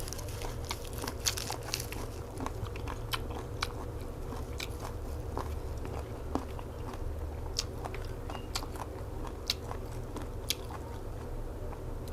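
Crunchy chewing of som tam topped with crispy fried chilies, close-up bites and steady crackling mastication with sharp crisp snaps repeating throughout, no talking.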